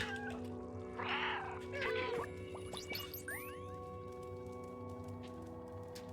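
Cat meows from the video game Stray, a few short mewing calls over a steady ambient game background with a low hum, moderately close and not loud.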